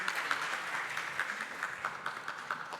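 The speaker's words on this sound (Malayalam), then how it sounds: "അദ്ദേഹത്തിന് വേണ്ടി നമുക്ക് നല്ലൊരു ക്ലാപ്പ് കൊടുക്കാം." Soft, steady applause from an audience at a nature photography club's annual day in a museum hall, a continuous patter of many hands at moderate distance with small swells, no voices over it.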